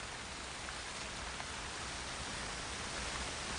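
Heavy rain pours steadily over the Borneo jungle, a dense, even hiss with no let-up.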